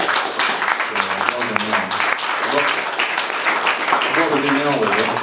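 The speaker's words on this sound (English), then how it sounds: "I think it deserves a round of applause." Audience applause at a short-film Q&A session, a dense steady wash of many hands clapping for several seconds, with voices talking and murmuring over it.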